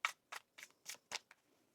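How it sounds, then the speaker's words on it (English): An After Tarot card deck is shuffled in quick riffling bursts, five crisp close strokes with short gaps and a faint sixth, alone without voices. "One more shuffle here, please"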